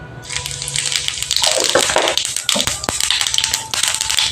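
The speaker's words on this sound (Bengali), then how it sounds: "এই তেলে আমি গোটা জিরে ফোড়ন দিয়ে দিলাম" Whole cumin seeds sizzle in hot oil left from frying fish, a loud, bright crackle with sharp pops and spattering, close up.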